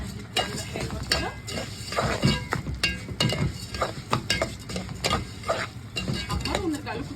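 Lisan asfour orzo browning in a pan, stirred continuously with a utensil that scrapes and clatters over a constant dry sizzle, close and fairly loud throughout.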